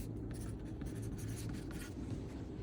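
Pencil drawing a grain line onto a paper blouse-back sewing pattern, a steady close scratchy scraping that runs continuously and alone, with no talk.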